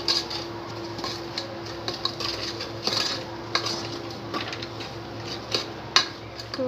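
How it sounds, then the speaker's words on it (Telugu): Mutton is stirred with chili powder, salt and turmeric in a metal pot, a spoon scraping and clinking at irregular intervals over a low steady background, with sharper knocks now and then and no talk. "మటన్ వేసి బాగా కలిపేస్తాం"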